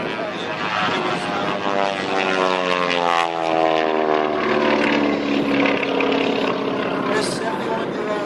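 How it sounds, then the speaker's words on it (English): A 71-year-old twin Beech airplane flying aerobatics at a warbird airshow, its propeller engines droning loudly with a pitch that sweeps as it passes overhead, while a commentator talks over it. "This 71-year-old airplane doing some aerobatics, twin beach aerobatics"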